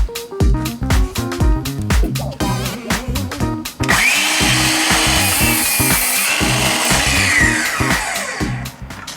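A DeWalt DCS361 cordless 20-volt sliding miter saw, 7 1/4 inch, cuts a 3/4 inch piece of oak: several quick clicks and knocks, then the motor spins up loud and whines steadily through the cut, close and alone.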